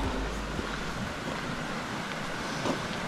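Continuous rushing water of a mountain valley stream, a steady broad wash, fairly close, with no talking.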